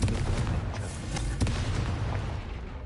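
The Confringo blasting spell goes off in a video game as a rumbling, noisy explosion with a sharp burst partway through, then a long roaring decay.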